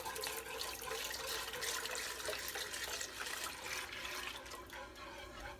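Milk is poured slowly into a garlic-scented mac and cheese sauce, a steady liquid trickle and splash running continuously at moderate level, with faint kitchen background.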